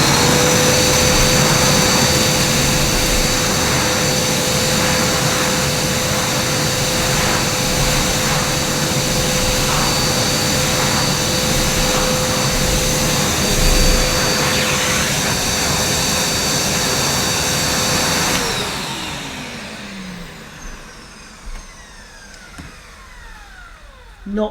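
A Karcher SE 4001 multifunction vacuum cleaner runs with a loud, steady whine and airy roar close by, then winds down as its motor is switched off near the end.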